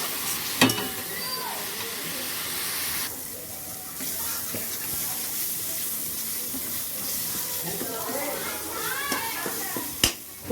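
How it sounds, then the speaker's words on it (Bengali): Food sizzles steadily in a hot pan with whole garam masala in the mix, a continuous frying hiss with a few sharp clinks of stirring and sounds of a tap running in the background. "এটাকে ভালো করে ফ্রাই করে নেব"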